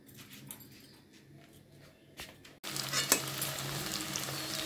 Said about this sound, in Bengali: পনিরগুলো এরকম লাল লাল করে ঠিক ভেজে নিতে হবে, একটু শক্ত করে ভাজতে হবে